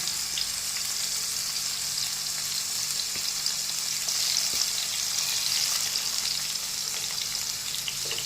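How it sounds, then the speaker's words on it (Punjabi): Tomatoes sizzling in hot oil for a Punjabi potato sabzi, a steady bright crackle and hiss at constant level with a few small pops and no voice. "ਤੇਲ ਗਰਮ ਹੋ ਗਿਆ ਇਹਦੇ ਵਿੱਚ ਰੱਖ ਦਿੰਦੇ ਆ ਟਮਾਟਰ"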